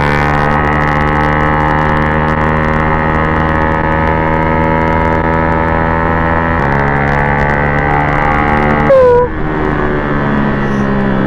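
A Yamaha R15 race bike with a Daytona exhaust idles and revs loudly up close, a strong harmonic drone that shifts pitch partway through before a sharp throttle blip and drop.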